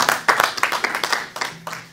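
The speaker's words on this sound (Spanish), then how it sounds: "ahora voy a pedir un aplauso para la ciudad esta de Federación" An audience at a rock power-trio show applauds for the city of Federación, with quick bursts of clapping that rise and fall. Faint voices mix in under the clapping.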